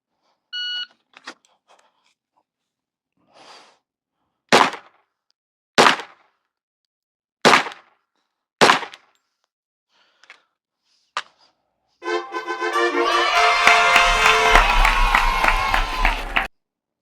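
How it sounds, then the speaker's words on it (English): Handgun shots ring out at 25 yards during a pistol qualification: four sharp, well-spaced reports from a few meters away, with faint clicks between them. The shots are followed by a loud electronic tone near the end. "We have 20 seconds to fire 4 rounds."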